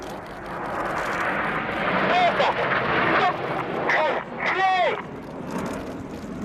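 BAE Hawk T1 jets of the Red Arrows roar through an air show display at RIAT 2017 with a broad, sustained rumble rising and falling as they pass, heard under a commentator's voice.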